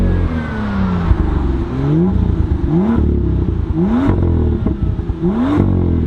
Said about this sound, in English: Quite a few burbles, man. I absolutely love that about this exhaust.